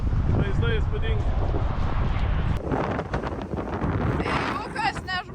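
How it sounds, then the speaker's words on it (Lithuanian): Strong outdoor wind roars across the microphone on an Alaska road trip, a loud, constant rumbling buffet that stays heavy throughout, with people talking intermittently underneath. "Labai didelis vėjas ir turbūt nieko nesigirdės."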